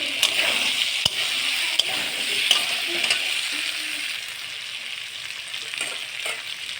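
Jackfruit, potatoes and prawns with spices frying together in a pan: a steady close sizzle with occasional stirring scrapes and clicks, no talk.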